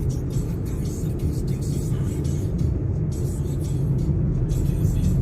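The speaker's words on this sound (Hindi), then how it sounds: "तो अब हम इस गाड़ी को ओवरटेक करते हैं" Hyundai i20 Sportz petrol car cruising on a highway, heard from inside as a steady low rumble of engine and road noise that continues without a break.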